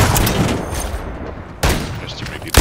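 Rapid gunfire in a video game free-for-all match on the Shipment map, loud and dense, sustained shooting with a sharp fresh burst near the end.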